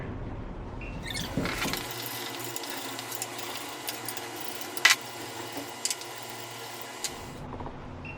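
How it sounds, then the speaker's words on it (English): A power tool running steadily while screws are removed from a quarter-turn valve actuator, a close, continuous whirring drone that starts up and stops about five seconds later, with small clicks and taps scattered throughout and no talking. "And remove the screw of the actuator."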